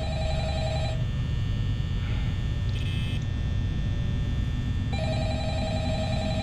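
Telephone rings in the Five Nights at Freddy's video game, a repeated electronic ring in bursts with a gap between them, loud over a steady low rumbling hum.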